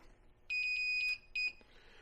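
A VDIAGTOOL V200 circuit probe tester's continuity beep rings out as a clear high electronic tone, one longer beep followed by a shorter one, close and alone in a quiet room.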